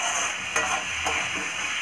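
Soaked lentils are stirred into sizzling spices in a pan, a steady frying hiss with a few soft scrapes of the spoon, close and continuous with no talking.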